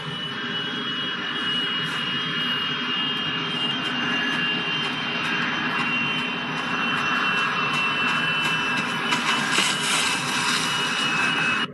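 Jet airliner engines roar loudly and steadily throughout the airplane crash scene in the film Leave the World Behind, with a broad dense rumble that swells slightly near the end and no talk.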